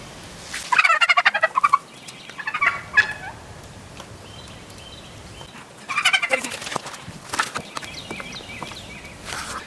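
Several turkeys gobble in loud, rapid bursts, one near the start and another around the middle, with quieter clucking between.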